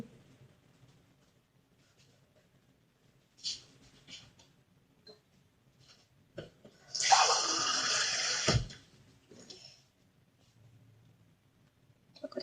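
Water is poured into mashed chili leaves for a bamboo shoot curry, a brief splashing pour lasting about two seconds close by in an otherwise quiet kitchen with faint handling noises.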